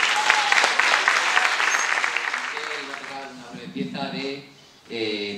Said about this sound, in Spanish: Pues seguimos con los aplausos.